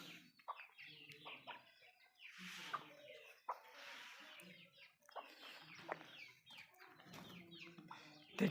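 Chickens and a rooster cluck and call in short irregular bursts around a farmyard in winter, with chicks nearby, fairly faint and scattered, with occasional brief sounds between the calls.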